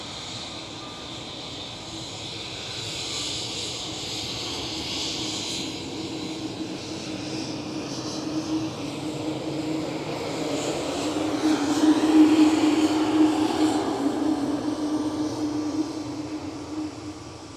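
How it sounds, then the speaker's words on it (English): A KLM Cityhopper Embraer E195-E2 jet airliner at Schiphol gives a steady broadband engine roar that slowly swells, peaking near the twelve-second mark before easing slightly, with no talk. "KLM City Hopper E195 E2"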